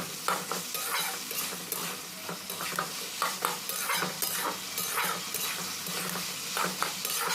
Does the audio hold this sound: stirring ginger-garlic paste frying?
yes